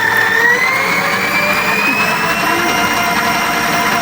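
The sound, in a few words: new electric mixer running at speed 4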